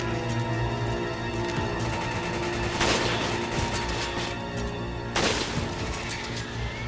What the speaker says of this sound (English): Take cover here and we're going to dispose of the remaining Magini with machine guns.